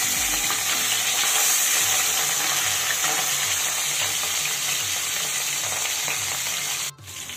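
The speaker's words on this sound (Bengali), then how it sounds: "বাকি দুটো মাছও কিন্তু আমি একইভাবে ভেজে নেব।" Fish frying in hot oil in a home kitchen, a loud, steady crackling sizzle that runs continuously and close, with a brief abrupt dip near the end.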